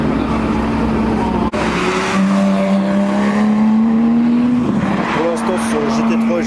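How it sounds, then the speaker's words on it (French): Porsche GT3, GT3 RS and GT2 RS sports cars drive past in a parade at a Porsche gathering, loud engines rising and falling in pitch as they pass close by, with crowd chatter underneath. "GT3 et GT3 RS et GT2 RS qui roulent."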